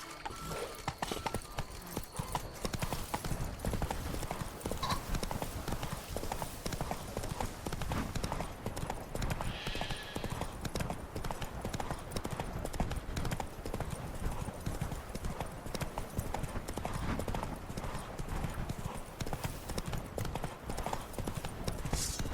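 Steady clip-clop of horse hooves trotting in The Witcher 3: Blood and Wine, a continuous rhythmic beat running the whole stretch alongside game ambience, with no talk.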